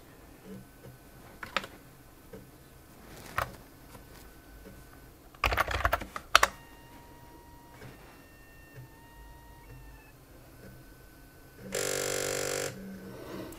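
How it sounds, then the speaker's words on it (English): A failing disk drive in a Brother WP-1 word processor struggles to come up to speed, giving scattered clicks and ticks, a brief clattering burst, a thin whine and a loud buzzing grind near the end. "that noise is because the drive isn't coming up to speed correctly."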